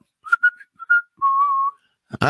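A person whistles a short, clear tune of several brief notes followed by one longer held tone, close and loud in a quiet room. Speech starts just at the end.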